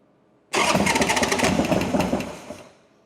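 A Harley-Davidson 1275 Sportster motorcycle engine cranks and fires up abruptly, settling into a loud, close, uneven rumble for a few seconds before tapering off.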